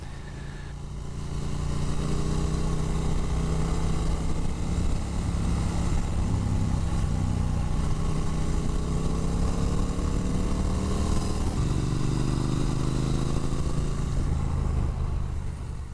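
Motorcycle lapping the Jennings GP race track, a continuous engine drone from on board with rising and falling pitch through gear changes and wind noise.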